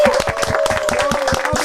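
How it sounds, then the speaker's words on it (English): Brief burst of clapping for a guest arriving on a podcast, a few people clapping quickly and close up with a steady tone running underneath. "Big round of applause,"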